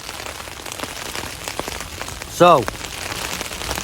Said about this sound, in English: You can hear the rain bouncing down on the tent